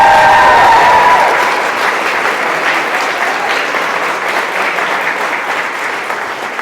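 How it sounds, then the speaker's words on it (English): Audience applause at wedding speeches, a loud, dense burst of many hands clapping that starts strong and slowly thins out over several seconds, with no talking. "So can we just have a round of applause for Jordana, please?"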